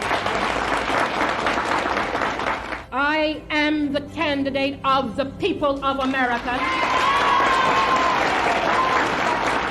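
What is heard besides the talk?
crowd cheering and applauding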